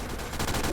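A missile barrage in the video game Team Fortress 2 fires off as a rapid burst of sharp, loud blasts, close and without talk.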